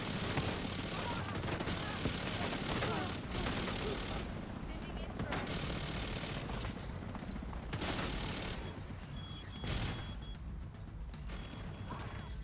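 Rapid submachine gun fire from a Chatterbox SMG in The Division 2, bursts rattling out repeatedly with brief pauses between volleys, fairly close and steady.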